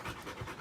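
A dog pants quickly and close up, a steady run of short breathy huffs with no other sound.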